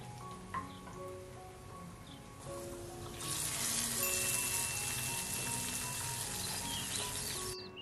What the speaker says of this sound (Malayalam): ഇനി നമ്മുടെ ഫിഷ് മോളിക്ക് അവസാനത്തെ മിനുക്കുമണിയായിട്ട് കുറച്ച് കാഷ്യൂം കിസ്മിസും ഒന്ന് നെയ്ക്കകത്ത് വറുത്തിടാം